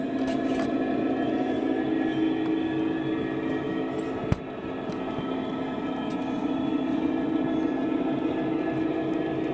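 Model railway wagons with D couplings rolling in reverse over points and onto a ramp, a steady close rumble with faint rhythmic clicks, one sharp knock midway.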